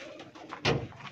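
A pigeon of an old breed coos nearby, with a soft, low, throaty burst standing out for a moment before quieter murmuring resumes.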